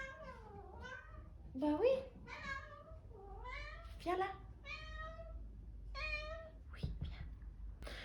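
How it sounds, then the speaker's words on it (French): A house cat meows repeatedly, a string of short, rising and falling cries close by, while someone speaks softly to it in between. "Donc elle risque de miauler un petit peu"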